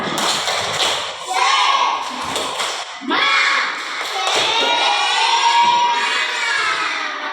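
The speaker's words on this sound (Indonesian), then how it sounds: "Tepuk semangat." Children perform a rhythmic 'tepuk semangat' clapping routine in a classroom, their loud shouted chanting mixed with patterned claps and thumps in several bursts.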